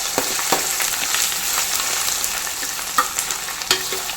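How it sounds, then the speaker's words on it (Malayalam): Ginger, garlic and green chilli fry in oil with a steady broadband sizzle, while a few sharp clicks of a utensil against the pan mark the stirring throughout. "നമുക്ക് കുറച്ച് ഇഞ്ചി വെളുത്തുള്ളി ഇതുപോലെ ചെറുതായിട്ട് ചോപ്പ് ചെയ്തിട്ട് കൊടുക്കുക"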